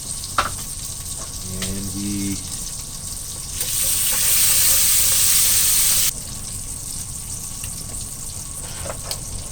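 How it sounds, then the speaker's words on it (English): Bacon frying in a pan, a steady close sizzle with occasional clicks and a brief beeping tone, a louder burst of hiss in the middle, and a short spoken word at the start. "started the bacon"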